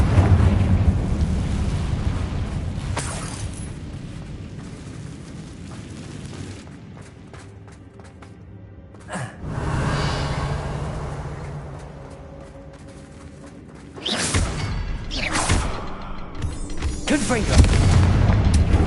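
Repeated Confringo blasting spells explode in the Hogwarts Legacy video game, loud booming blasts with rumbling tails and a quieter lull between them, ending in another burst of heavy explosions.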